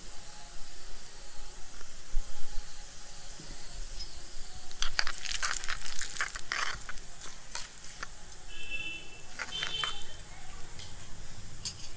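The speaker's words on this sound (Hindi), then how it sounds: "मेथी को सिकने में थोड़ी देर लगती है, इसलिए हमने मेथी पहले डाली है" Fenugreek seeds and asafoetida fry in hot oil as a tempering for a mango pickle, giving a soft steady sizzle with scattered stirring clicks and scrapes nearby; no one speaks.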